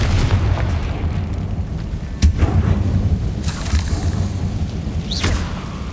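A Confringo blast in Hogwarts Legacy: a loud, sharp fiery burst cracks out near the middle, followed by whooshing spell bursts over a rumbling battle backdrop, with no talk.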